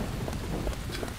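Steady rain patters continuously in the video game Deadly Premonition, a dense, even hiss with faint rumbling low underneath and no voices.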